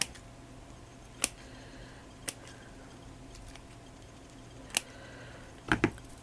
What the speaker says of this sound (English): we'll just cut some of the laces